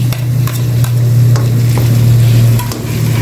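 Onion sautéing in a pan after garlic has been fried, a loud, close, steady sizzle and crackle with a low hum underneath and a few soft stirring scrapes.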